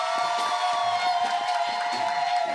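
A church congregation shouting acclamation cheers, a massed crowd roar of many voices held steadily for a couple of seconds, loud and close, over a sustained tonal backing.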